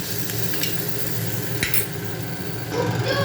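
Soybean chunks fry in oil in a pressure cooker over medium heat, giving a continuous close sizzle with scraping stirring strokes and occasional clinks, and no voices.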